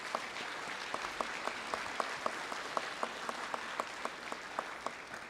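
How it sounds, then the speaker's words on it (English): Applause in a legislative chamber for a man named James, with steady, modest clapping spread across the room and faint regular accents, moderately distant and without speech. "On behalf of those with disabilities, please clap for James."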